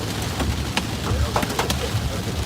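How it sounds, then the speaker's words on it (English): Small hail peppering the body of a newer car during a severe thunderstorm in the Minnesota–Wisconsin region, heard as a steady dense patter of sharp taps over broadband rain-like hiss, with scattered louder clicks throughout. "you can really hear the hail"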